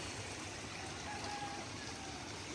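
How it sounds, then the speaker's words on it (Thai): Water from the Pa Sak river spills over its banks into a village community in Phetchabun, a steady, faint rushing flow heard from a distance, unbroken and without talk. "น้ำล้นตลิ่งครับ จากแม่น้ำป่าตัก"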